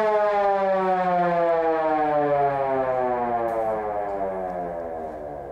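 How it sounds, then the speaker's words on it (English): A 1939 Fargo fire truck's mechanical siren wails loud and close, one long sustained tone sliding slowly downward as it winds down, with no other sounds. "I like playing with the siren."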